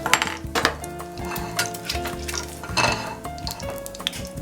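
Food drops into a wok of hot oil at a food truck while cooking linguine, giving a steady close sizzle broken by clinks and scrapes of utensils against the pan, with no talking.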